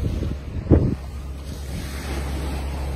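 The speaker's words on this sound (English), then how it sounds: "Right by the sea." Sea waves on the beach at Jaywick, a low rumbling surge with one louder swell, mixed with heavy wind buffeting the microphone.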